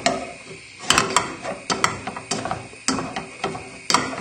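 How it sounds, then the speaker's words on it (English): A masher pressed repeatedly into cooked potatoes in a pan on a low burner, making mash for spicy salmon fish cakes: steady rhythmic thuds and scraping clanks roughly twice a second, loud and close, with no talk. "Just give it a good mash."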